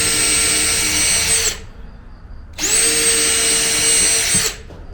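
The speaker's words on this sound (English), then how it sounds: "We're going to go and drill 2 holes" A power drill bores two holes into a wooden board for a beginner woodworking project, in two steady, loud whirring runs of about two seconds each separated by a short pause, with no speech.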